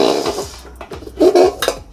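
Roasted black pepper being scooped out of a hot pan, a series of close metallic scrapes and clinks of a spoon against the pan, irregular and moderately loud, with no talk.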